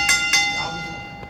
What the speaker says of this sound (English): The bell has rung, and this is underway.